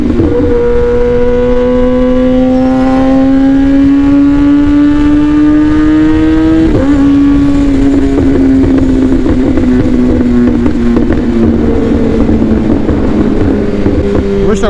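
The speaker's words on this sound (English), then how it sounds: "the wind seems kind of louder" Steady wind rush buffets an ILM Z501 helmet while riding a motorcycle through traffic at moderate speed, blended with a loud droning engine whose pitch climbs, drops sharply at a gear shift, then slowly sags.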